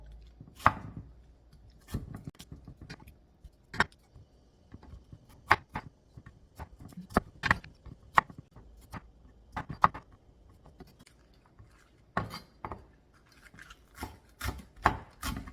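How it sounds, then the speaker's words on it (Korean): Kitchen knife chopping persimmon on a cutting board for a fresh raw oyster salad, a steady series of sharp, close knocks in irregular bursts with short pauses between strokes. "머리 부분은 송송 썰고"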